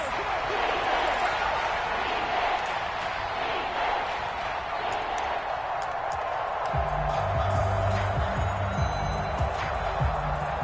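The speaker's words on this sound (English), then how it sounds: "This crowd turning up the decibel level." A stadium crowd in the Madden 25 football video game keeps up a loud, steady roar that swells in volume, with a low rumble building near the end.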